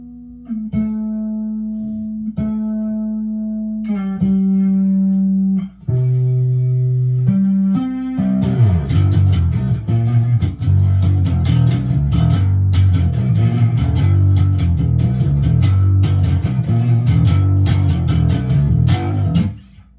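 A 2021 Gibson non-reverse Thunderbird bass played through a Fender Rumble 800 amp with overdrive, starting with single sustained notes, then breaking into a loud, gritty, driving riff that runs continuously to the end without talk.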